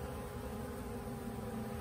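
A swarm of honeybees fills a hive with a steady, close, dense hum and buzz that holds at an even level throughout, with no voices over it.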